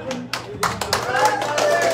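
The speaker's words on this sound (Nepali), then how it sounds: "कृपया सबैले ताली बजाइदिनु होला।" An audience claps at the opening of a Deusi Bhailo festival gathering held by a Nepali expatriate community in Hail, Saudi Arabia. The claps start as scattered taps and swell into steady, dense applause under a murmur of voices.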